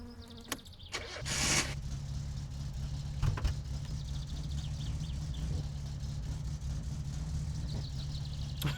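Car engine in the simulation game My Summer Car idling with a low steady rumble after a couple of sharp clunks near the start, running on at an even level with small knocks throughout.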